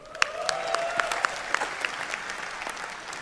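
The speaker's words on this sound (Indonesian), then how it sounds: "yang bangga jadi orang Indonesia coba tepuk tangan" An audience claps in a continuous burst of applause, dense and lively for a few seconds, with faint voices mixed in.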